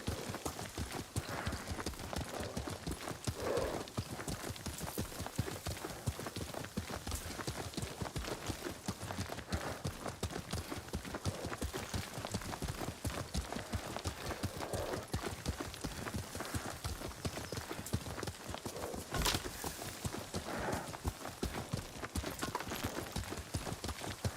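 Horse hooves clip-clop at a fast, steady galloping pace while riding in the video game Ghost of Tsushima, a continuous rhythmic patter at moderate level with faint voices in the background.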